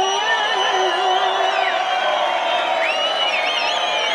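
A live concert crowd at a performance cheers loudly, with a dense, continuous wash of shouts, whoops and high whistles that holds steady and close throughout.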